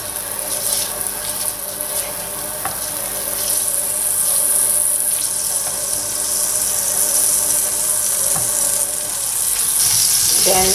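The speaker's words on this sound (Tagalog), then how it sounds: "Dito sa ating kawali, so, itunawin lang natin yung butter natin." Butter melts and sizzles in a kawali pan, a steady close crackling fry with occasional pops that keeps going for several seconds.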